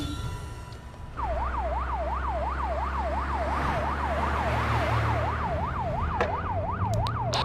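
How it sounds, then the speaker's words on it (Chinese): Police vehicle siren wailing in a fast, steady up-and-down warble, starting abruptly after a second and continuing loud and close over a low engine rumble. "所有车辆关闭警报器。"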